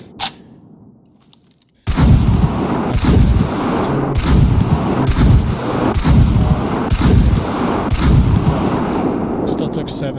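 Seven loud rifle shots in the survival game SCUM fired at a target about 120 meters away, evenly spaced sharp cracks each with a booming tail, after a brief quiet stretch with faint voice.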